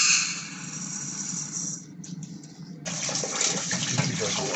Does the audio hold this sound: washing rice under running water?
yes